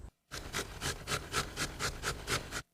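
Carrots being grated by hand for sauerkraut, a steady series of about nine rhythmic rasping strokes, close and fairly quiet, with no talking.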